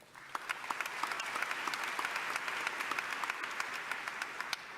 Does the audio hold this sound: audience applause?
yes